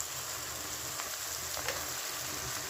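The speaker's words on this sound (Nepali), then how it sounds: "प्याजसँगै मासु पनि अलि भुटेला भनेर मासु हालिरहेको छु" Meat frying with onions in a pan gives a steady, even sizzle throughout, with a few faint clicks and stirs and no talking.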